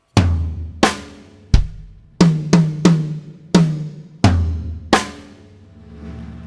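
Drum fill from a song played on toms, snare and kick at slow tempo, eight separate resonant hits with ringing decays, loud and close, with no talking.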